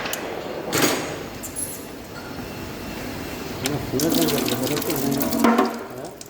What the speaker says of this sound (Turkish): Su akıyor